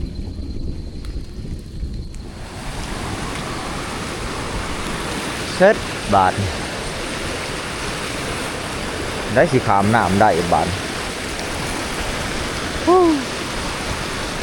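Steady, loud rain roars as a dense wash of noise, starting abruptly after a couple of seconds, with a voice speaking briefly over it.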